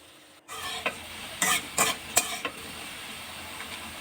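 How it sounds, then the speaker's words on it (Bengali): Potato pieces fry in oil in a pan while being stirred, with a constant soft sizzle broken by several sharp scraping strokes of a spatula in quick succession, close and clear. "নেড়ে চেড়ে আলুগুলোকে লালচে করে ভেজে নেব।"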